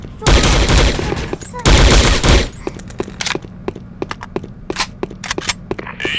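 Gunfire in a shooter video game: two loud, dense bursts of automatic fire, then a string of sharp single shots and short pops spaced out over several seconds.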